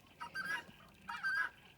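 Two short bursts of goose honking, nasal and slightly distant, with a brief pause between them and no talking.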